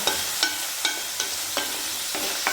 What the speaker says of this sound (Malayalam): സവാള ഒന്ന് വഴണ്ട് വന്നിട്ടുണ്ട് ഞാൻ ഇതിലേക്ക് കൊച്ചുള്ളി അങ്ങ് ചേർത്ത് കൊടുക്കാം